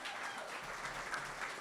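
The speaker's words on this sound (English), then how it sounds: "We can give them a round of applause." Applause from the audience at a university event welcoming a new women's basketball head coach, a steady, even burst of many hands clapping, with no talk over it.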